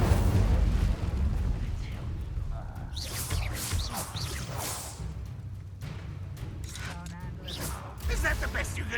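Fiery spell blasts in Hogwarts Legacy whoosh and boom in repeated bursts amid ongoing combat noise, with a character's voice calling out over the action.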